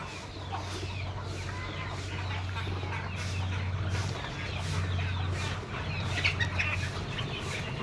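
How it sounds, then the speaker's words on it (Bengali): Desi local-breed chickens cluck and murmur nearby in a rural yard, with repeated soft clucks and faint chirps over a steady low hum. "দেশি মুরগি আছে এখানে"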